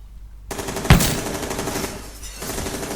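A sudden sharp gunshot bursts out in the video game Mafia 2 Definitive Edition, followed by a ringing, rumbling tail.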